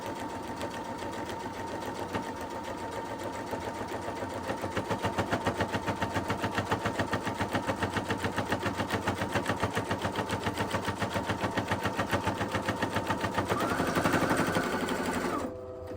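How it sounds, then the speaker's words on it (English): A sewing machine runs steadily for most of the clip while sashing a quilt, its rapid rhythmic stitching loud and close, slowing and stopping at the very end. "take it back to the sewing machine."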